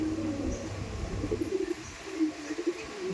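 Kalasobuj pigeons in a loft giving soft, low repeated coos, close by and moderately quiet, with faint background noise.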